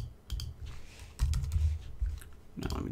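Quick bursts of clicking keystrokes on a computer keyboard, uneven typing in short clusters, close and fairly quiet.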